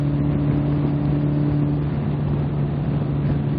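Steady car engine drone at highway speed around 70 mph, a continuous low hum with road and wind noise and no clear rise in revs, heard from inside the vehicle while overtaking.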